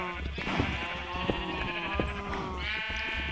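Sheep in the video game Minecraft bleat faintly over a busy game background with clicks and small thuds, and a clearer bleat rises near the end.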